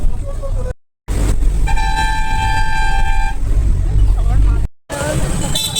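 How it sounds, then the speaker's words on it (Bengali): Loud roadside traffic with a car horn blaring in a long steady tone amid engine rumble and wind, brief dropouts breaking the noise and voices talking over it. "গাড়ি এত জোরে চলছে, শুনতে পাচ্ছি না।"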